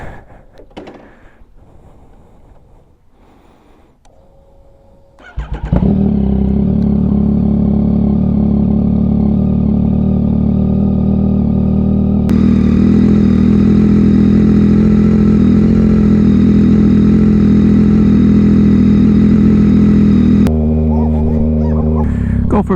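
Yamaha XSR900 motorcycle starting up after some quiet rustling, then a loud, steady engine drone close to the rider, rising in pitch partway through as it gets under way; a voice speaks briefly before the start.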